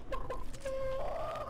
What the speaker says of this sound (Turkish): Fucking chickens.